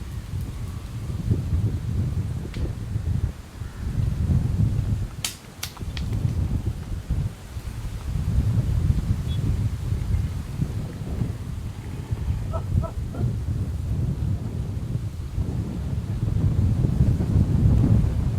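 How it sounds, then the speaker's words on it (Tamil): Strong evening wind at Pannai Beach in Jaffna gusts in low, continuous roaring buffets, hitting the microphone and rushing through trees, with a few brief faint knocks and no talk. "இந்த மேலே இருக்கிற மரங்களை பார்த்தா தெரியும் காத்துன்ற வேகத்துக்கு எப்படி இருக்குன்னு சொல்லி."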